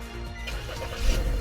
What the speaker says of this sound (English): I'm going to demonstrate it first by going ahead and start this car